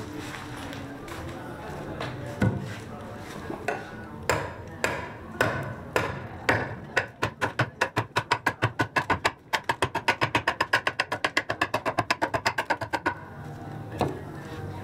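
A big axe shapes wood for the wheel of a Sicilian cart, starting with scattered heavy chops and settling into a fast, steady run of sharp, close strikes.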